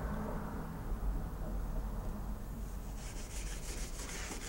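A Scotch-Brite pad rubs along the spine of a handmade knife blade, a close, steady abrasive scrubbing that turns to faint rhythmic strokes near the end, with no talk.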